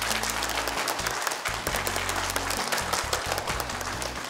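A group of company staff gathered to welcome a director clap together in a steady, fairly loud burst of applause, with a low musical drone running underneath throughout.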